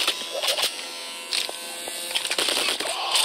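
An electric taser buzzes in the heist video game PAYDAY: The Heist, harsh crackling bursts stuttering on and off in short pulses over a steady electrical hum.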